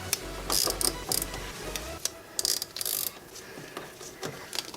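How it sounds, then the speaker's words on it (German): A hose clamp is worked open on a Toyota Supra engine, giving close, ratcheting clicks and metallic mechanism noises in short, irregular bursts, with a few sharper snaps and no voices. "Dann werde ich mal die andere Schelle hinten öffnen"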